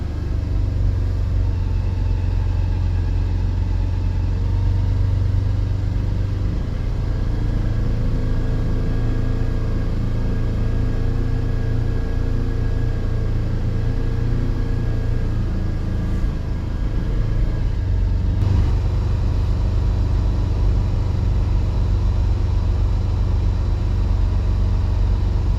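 A Polaris Ranger 1000XP utility vehicle engine idling steadily with a low constant rumble and hum, no voices, running unchanged throughout.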